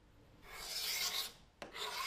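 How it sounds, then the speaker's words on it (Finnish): Rasping, scraping strokes as old, flaking paint is worked off a wooden stool with a scraper blade and sandpaper; steady, close abrasive rubbing with a brief pause and a sharp scrape before it resumes, no voices. "Vanha, lohkeilut maalipinta tasoitetaan kaavin raudalla ja hiomapaperilla."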